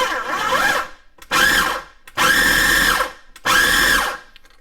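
A food processor pulses coarse chunks of fish for homemade fish burgers in four loud whirring bursts, each about a second long and separated by short pauses, close and with no talking.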